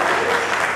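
A brief burst of audience clapping fills a function hall, dense and steady for under a second.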